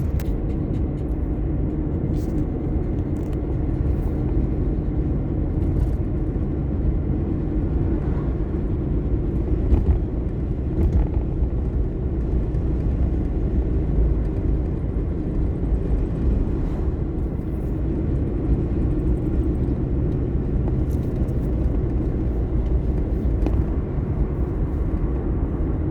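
A car drives along a mountain road on the way to and from a hot spring, its engine and road rumble a steady, continuous low drone close to the microphone with no talking.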